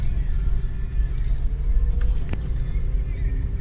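A red Pontiac Grand Prix GT being driven, a steady low engine and road rumble heard from inside the car, with a couple of faint clicks and no talking.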